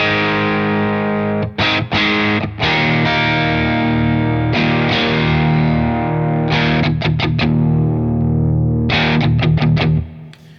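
Electric guitar played through a Crazy Tube Circuits Space Charged V2 pedal in tight mode, thick sustained distorted chords ringing for several seconds with short muted stabs in between, close and loud, then cut off at the end.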